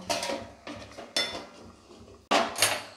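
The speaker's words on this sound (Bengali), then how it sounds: "আবার কিছুক্ষণ ঢাকনা দিয়ে এটাকে আমি রেখে দেব।" A metal lid clatters back onto a cooking pot of prawn malaikari, with several close clanks and scrapes in quick succession and a sharper knock near the end.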